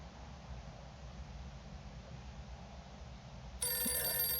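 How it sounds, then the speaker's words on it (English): A telephone rings inside the detective game Alter Ego, starting abruptly near the end as a bright, steady electronic trill over a low background hum. "Well, let's go and answer the phone then."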